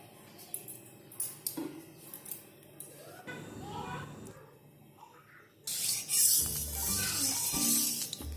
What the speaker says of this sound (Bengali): কড়াই গরম হয়ে গেছে, এরপর আমি এতে দিয়ে দিচ্ছি সরষের তেল।